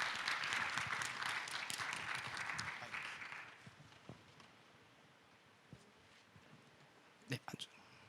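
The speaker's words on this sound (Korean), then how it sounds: "박수 부탁드리겠습니다." An audience claps at a startup competition event as a foundation vice-chairman is invited to the stage, with dense applause for about three seconds that then dies away, leaving faint room noise and a few scattered knocks.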